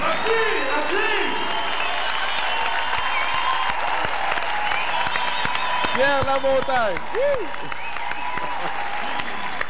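An audience applauds continuously and loudly, a dense wash of clapping and crowd noise, with a voice speaking briefly over it.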